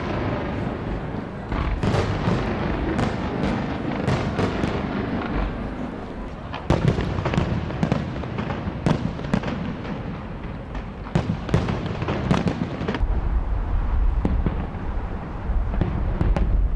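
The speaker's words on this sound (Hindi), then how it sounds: "रूस में कौमी दिन के मौके पर जबरदस्त आतिशबाजी, आसमान रंग बिरंगी रोशनियों से जगमगा उठा।" Fireworks display over Russia on its national day, a dense barrage of sharp booms and crackling bursts, some loud and close, repeating irregularly over a continuous rumbling background.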